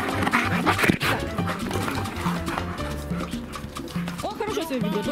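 A Bernese Mountain Dog growls playfully during courtship play with another Bernese. The low, rumbling growls and grumbles come up close under ongoing conversation between people.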